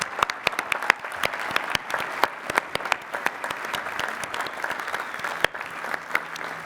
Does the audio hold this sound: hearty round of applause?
yes